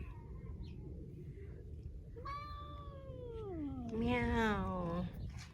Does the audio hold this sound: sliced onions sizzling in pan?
no